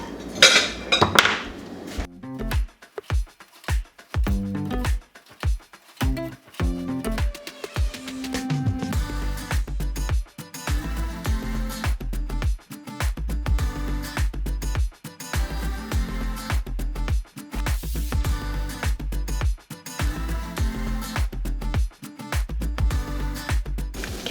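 Dishes and utensils clink and clatter in a home kitchen as reheated breakfast-for-dinner food is scooped, making repeated close knocks and rattles in an irregular rhythm.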